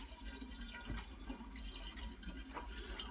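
Wine runs through a half-inch hose into a container, a faint steady trickle with small drips against low background noise.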